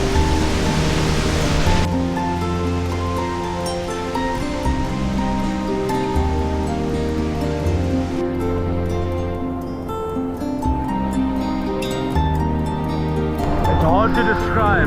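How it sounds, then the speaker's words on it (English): Roaring waterfall at Nungnung Waterfall in the Bali jungle, a loud, continuous broadband rush of falling water that stays steady and close throughout, with tonal music-like bands layered over it. "The power of that waterfall is madness."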